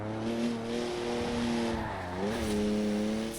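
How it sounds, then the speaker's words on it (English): In Forza Horizon 4, a car with a 3-litre twin-turbo straight six, 335 horsepower, howls at steady high revs while sliding sideways, its engine note dipping and rising mid-drift, loud and continuous. "3-litre straight six, 335 horsepower, 2 turbos, as much sideways action as you like."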